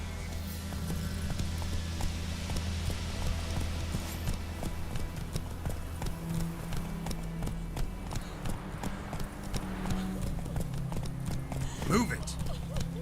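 Roach, a horse in The Witcher 3, clip-clops steadily at a walk under game music and ambience, the hoofbeats close and continuous, with a voice speaking over them.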